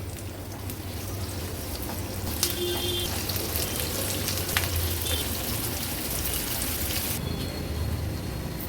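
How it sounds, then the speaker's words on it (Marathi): Sliced onion sautéing in hot oil in a home kitchen, a steady, fairly faint hiss and crackle of frying that runs continuously without pause. "असा हा लांबडा चिरलेला कांदा आपण ऍड करूया कांदा तेलावर थोडासा परतून घ्यायचा आहे आपल्याला"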